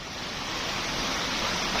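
Clear stream water pouring down from a small waterfall beside a property in Saraburi, Thailand, a steady broadband rush that fills the whole clip at an even level with no talk.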